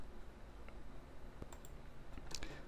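A computer mouse clicks a few times while modelling in Rhino3d software, giving quiet, crisp, isolated clicks over a low, soft background hum.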